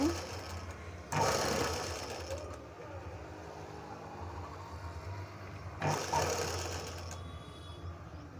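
A sewing machine stitches fancy saree cloth for a blouse, with a steady mechanical whir running through the whole stretch and two louder surges where the motor speeds up, with no one talking.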